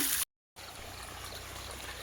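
Water from a borewell motor pump at a village home runs in a steady, close rushing stream, broken by a short silent gap near the start before the flow resumes.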